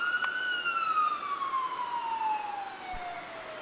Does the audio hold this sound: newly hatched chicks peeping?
no